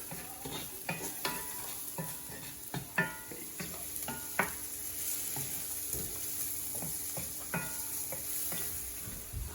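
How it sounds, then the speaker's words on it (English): White button mushrooms sauté in a pan with a constant soft sizzle, broken by frequent sharp clicks and scrapes of a utensil stirring them. "We're gonna start sauteing these off until they kind of start releasing some of their moisture"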